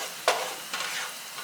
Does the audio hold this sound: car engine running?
no